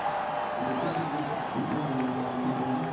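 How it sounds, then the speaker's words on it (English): A stadium crowd at a 2006 college football playoff quarterfinal, Illinois State at Youngstown State, roars in a steady, dense wash of cheering, with a commentator's voice speaking over it. "Crowd getting into this one now."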